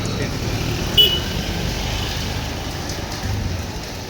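Rain pours steadily on a town road while cars pass, a dense continuous hiss with a low traffic rumble and one brief clink, fairly loud and close.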